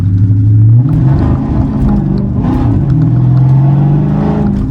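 Hemi Dodge Challenger SRT 392 Scat Pack in track mode accelerating hard, a loud, close V8 roar rising and swelling continuously with deep rumble, heard from inside the car with no talk.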